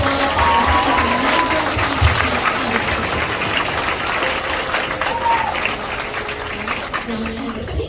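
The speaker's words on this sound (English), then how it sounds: "Let's give these students a big round of applause" Steady audience applause fills a school awards ceremony for sixth-grade All A honor roll students, a continuous dense wash of clapping with some crowd murmur running underneath throughout.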